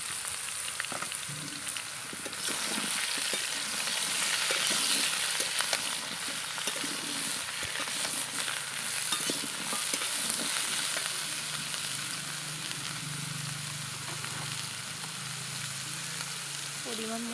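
Eggplant and potato frying in a pan of oil with browned garlic and onion, a steady close sizzle with occasional stirring scrapes throughout.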